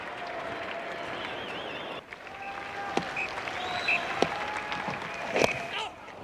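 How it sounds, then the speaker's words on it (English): A cricket crowd at an Australia versus South Africa Test match cheers and applauds Glenn McGrath coming out to bat, a distant, steady wash of clapping running under a commentator's voice. "a big cheer here for Glenn McGrath"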